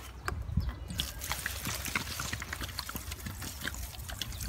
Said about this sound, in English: Got some distilled white vinegar. The bigger jug you can get, the better. And I'm just gonna pour it.